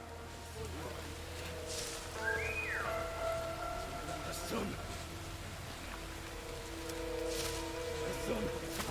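A soft whistle from a character in a World War II real-time stealth tactics game, a brief rising then falling tone over steady game ambience and background hum.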